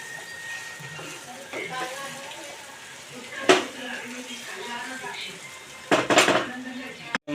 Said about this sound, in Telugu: రొయ్యలు అయితే దీంట్లో వేసుకొని కూరలో అటు ఇటు తిప్పుకోవాలి.